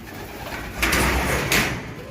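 A racing pigeon of the Opal line returning to its home loft after a race from Tacloban, with a few brief soft flutters and shuffles close by against a quiet background.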